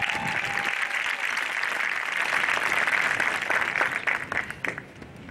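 Sustained applause from a large crowd at a university commencement ceremony, a dense steady wash of clapping that carries on for several seconds before thinning out and tapering near the end.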